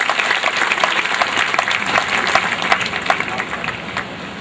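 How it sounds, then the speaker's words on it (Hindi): Crowd applause welcoming a chief guest at a community conference held in a garden venue, a steady dense patter of many hands clapping at moderate loudness throughout. "जोरदार तालियों से इस्तकबाल कीजिए मेहमान खुसूसी का।"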